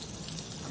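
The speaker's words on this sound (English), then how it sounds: "There's the water pressure." A kitchen faucet sprays water at full pressure during a home inspection, a steady, hissing gush that continues evenly for under a second.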